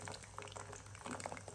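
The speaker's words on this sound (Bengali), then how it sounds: "আমার এখানে তেল গরম হয়ে গিয়েছে, সামোচাগুলো ফার্স্টে এটা ভেজে নেব।" Frozen samosas and liver singaras frying in hot oil in a home kitchen, a continuous bubbling sizzle with scattered small pops, close and moderately loud.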